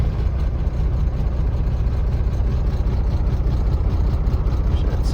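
A 2014 Kenworth W900L day cab's 12.7L Detroit diesel engine runs steadily and smoothly, a loud, continuous low rumble close by with no break across the whole stretch.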